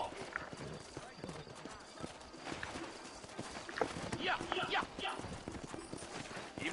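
Horses clip-clop in the video game Red Dead Redemption, rapid hoofbeats thudding steadily across the whole stretch beneath a man's speech.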